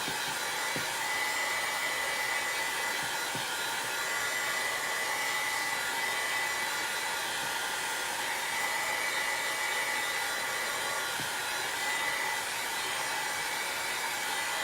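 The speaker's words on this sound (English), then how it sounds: "I'm going to go ahead in with the heat tool. Dry this up a little bit" A heat tool runs continuously close by, drying craft paint on a Dollar Tree farmhouse decor piece: a loud, even blowing whoosh with a steady motor hum throughout, alone without speech.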